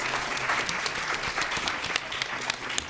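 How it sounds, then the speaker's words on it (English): Audience applause for speakers at a panel on fighting poverty and economic justice, a steady dense wash of many hands clapping throughout, fairly close and even with no talking over it. "can we have a round of applause for our speakers?"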